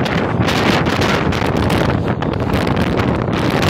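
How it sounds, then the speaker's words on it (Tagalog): Strong wind roars and buffets the microphone without pause, a loud, gusty rush of noise throughout. "para rinig nyo po kung gaano kalakas yung hangin dito sa amin ngayon"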